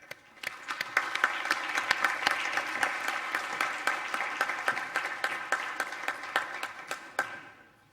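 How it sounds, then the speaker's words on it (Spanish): An audience at a lecture on reducing sugar in the diet applauds the speaker, a small crowd clapping with distinct sharp individual claps that build quickly, hold steady, then fade out near the end. "pido un aplauso para él."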